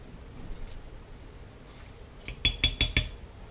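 Rice goes into boiling water in a stone pot for chicken biryani, with a soft bubbling background and then a quick cluster of four or five sharp clinks and splashy taps, close and fairly quiet.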